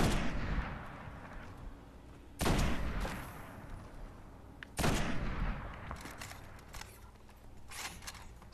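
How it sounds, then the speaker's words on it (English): Sniper rifle fire in a video game: two heavy, booming shots a few seconds apart, each ringing out into a long decaying tail over low background rumble and faint mechanical clicks, with no voices. "Sniper rifle is really overpowered."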